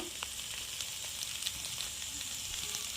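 Chicken mince cooking in a hot pan gives a continuous, even sizzle and crackle, close and moderately loud, with occasional light pops and no voices.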